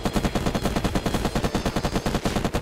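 Rapid bursts of automatic gunfire from the video game Unturned during PvP combat, a steady rhythmic stream of close, loud shots filling the whole moment without any talk.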